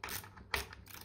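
A ratchet clicks as it loosens bolts at the top of a Kinetico water softener, giving a close, fairly quiet run of rapid mechanical ticks with one sharper burst midway.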